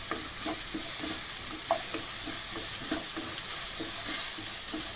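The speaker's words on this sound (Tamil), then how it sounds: "கொஞ்சம் வதவட்டும்." Garlic sizzles in a pan with onion and fennel seed, a soft steady frying hiss broken by regular stirring scrapes at a close distance, with no talking.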